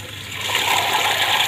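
Water released from a fan coil unit supply line to flush its strainer gushes and splashes in a steady, fairly loud rush that swells slightly after the first moments and continues without talk.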